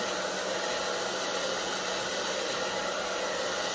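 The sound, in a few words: blow dryer heating archtop guitar binding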